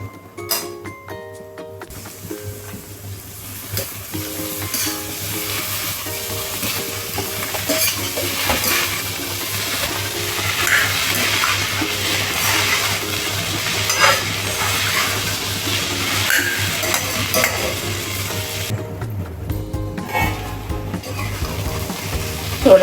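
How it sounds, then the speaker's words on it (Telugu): Onions and elephant yam pieces fry in a pan with a continuous, fairly loud sizzle, broken by repeated spatula stirring and occasional metallic clinks. "ఇలా వేగిన తర్వాత పెండ్ల ముక్క వేసేసుకోండి కదా."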